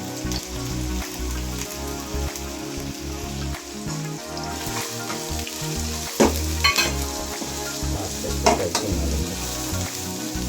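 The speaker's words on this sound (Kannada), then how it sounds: "ಎಲ್ಲ ಹಾಕಿದ್ಮೇಲೆ ಚೆನ್ನಾಗಿ ಮಿಕ್ಸ್ ಆಗಿ ಮಾಡಿಬಿಟ್ಟು ಚೆನ್ನಾಗಿ ಅದನ್ನು ಫ್ರೈ ಆಗೋದಕ್ಕೆ ಬಿಡಬೇಕು." Beans, carrot, capsicum and cabbage sizzle and fry steadily in a pan, with occasional louder stirring scrapes and clinks breaking through the continuous crackle; no one speaks.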